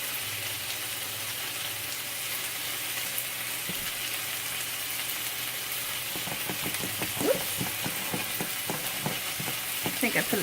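Chicken noodle casserole frying and sizzling in a pan on a stovetop burner, a steady close hiss with scattered crackles and pops that grow busier toward the end, with no talking.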